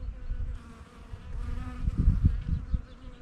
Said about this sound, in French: Et regardez, du coup elles sont sorties les abeilles.